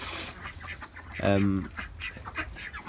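A single duck quack rings out near the middle, with faint bird calls and quiet background chatter around it.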